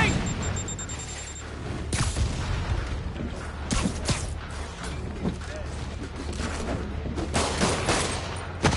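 Rockets blasting and booming in a Spider-Man game fight, with dense rapid bursts of explosions and gunfire-like cracks running throughout, loud and close, under a backdrop of battle noise and some voices.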